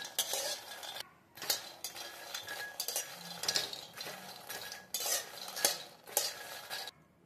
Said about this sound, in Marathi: बारीक गॅस करून असे छान असे भाजून घ्यायचे आहे मखाने।